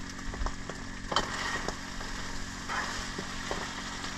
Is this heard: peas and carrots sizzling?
yes